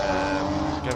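Classic Alfa Romeo Berlina race car climbing a hill-climb course, a steady loud engine drone held throughout the brief moment, with faint voices in the background.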